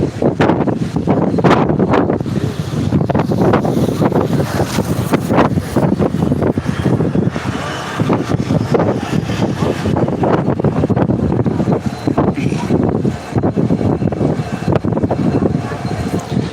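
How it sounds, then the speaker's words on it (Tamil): Strong wind on the new Pamban Bridge in India buffets the microphone with a constant loud roar, and a voice speaks beneath it. "காற்று சவுண்டு தான் இப்போ உங்களுக்கு கேட்கான்னு தெரியல"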